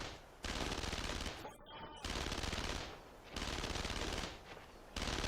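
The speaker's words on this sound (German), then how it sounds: "Belegt das MG mit Sperrfeuer!" Machine gun fire in the WWII video game Brothers in Arms: Road to Hill 30 on PS2 comes in loud sustained bursts, broken by short gaps of a second or so.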